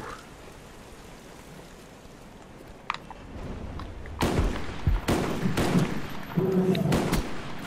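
M16 bursts ring out in Call of Duty Black Ops 2, several sharp rapid-fire volleys growing louder and denser in the second half over a low background murmur.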